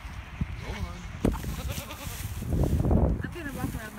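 Goats crowding around on a farm, bleating repeatedly at close range, with rustling and scuffling while a person talks among them.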